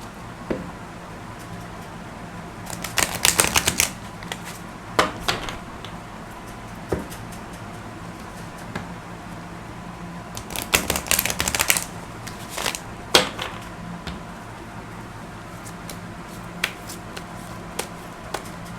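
Tarot cards shuffled by hand make two short, close riffling bursts, with scattered light taps and handling sounds between them and no speech.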